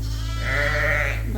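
A newborn lamb bleats once in a sustained, wavering cry, close and clear over a steady low hum in a lambing barn.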